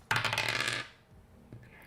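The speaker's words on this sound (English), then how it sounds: "I'm going to roll 1 of my inspiration dice." A single inspiration die rolled in a solo tabletop game clatters sharply on a hard surface for under a second, rattles to a stop, then gives one faint final tap.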